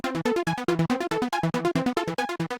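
A saw-based synth melody generated by two arpeggiators locked to a scale, playing rapid, evenly pulsed notes in a steady bouncing pattern, bright and upfront with no voices.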